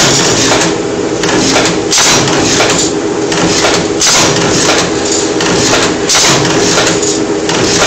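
An automatic die machine with lens cutters punching two holes per stroke runs loud and close, a dense continuous mechanical roar broken by regular heavy thumps about once a second.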